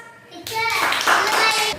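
Children clap together in a classroom, a loud burst of applause that starts abruptly and carries on steadily for over a second, with a voice mixed in.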